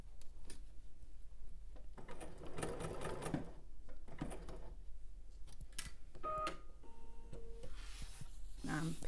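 A sewing machine runs steady top stitching on a second decorative row, its motor whirring in continuous bursts with brief pauses and clicks as it pivots at a corner; no talking.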